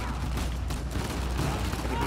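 Gunfire during a prison escape firefight in Uncharted 4, a dense and continuous barrage of shots with low booms mixed in under a busy wash of game noise.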